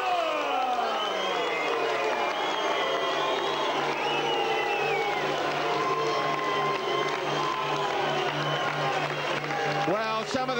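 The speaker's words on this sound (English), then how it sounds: "some of the crowd don't like that decision" A boxing crowd at a fight night rumbles with steady murmuring and scattered shouts after a split decision, with a continuous dense wash of voices and reaction noise throughout, over which an announcer talks.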